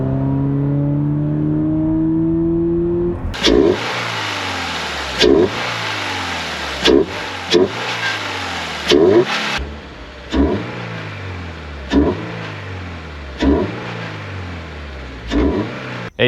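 A Toyota GR86 or Subaru BRZ with a K&N Typhoon air intake revs repeatedly in sharp bursts, each rise followed by a falling whine and intake whoosh, loud and close, with no talking.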